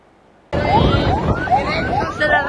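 An ambulance siren wails behind a motorcyclist in traffic in Makassar, starting abruptly and cycling in repeated rising sweeps, loud and close over road rumble.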